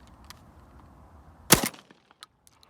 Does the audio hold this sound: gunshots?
yes